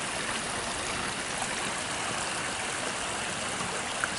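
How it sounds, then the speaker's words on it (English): A small runoff creek flows continuously nearby at night, a steady broadband rush and trickle of water with no voices and a faint click at the end. "And there's my little runoff creek."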